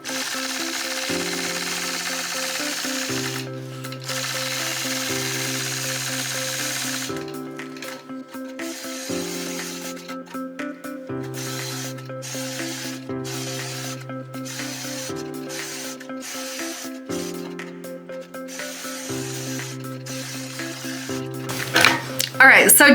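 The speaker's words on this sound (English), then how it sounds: "This is the Gammill ruler foot on my machine." A Gammill 22-inch long arm quilting machine fitted with a ruler foot stitching in the ditch, a rapid mechanical needle chatter running in repeated bursts with brief pauses, with a background tone underneath.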